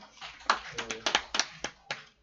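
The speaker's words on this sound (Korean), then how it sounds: "우리 하나님께 영광의 박수 올려드립니다" A church congregation claps at the end of a Sunday morning worship service, giving a handful of sparse, separate claps with soft murmuring voices between them.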